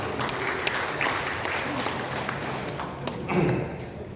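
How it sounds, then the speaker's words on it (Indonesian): Applause breaks out in a regional council meeting on the budget, scattered claps with a few sharper hand strikes standing out, fairly moderate and steady, with a brief murmur near the end. "Tepuk tangan Pak Pekalis."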